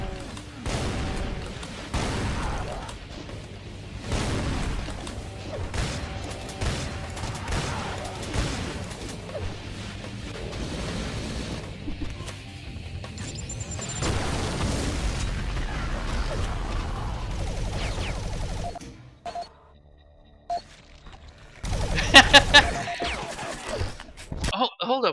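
Chaotic Doom 2 firefight on Ultraviolence difficulty, shotgun-style blasts and explosive booms as imps are gunned down, a dense continuous barrage with game music and someone talking over it, then a short lull before sharper bursts near the end.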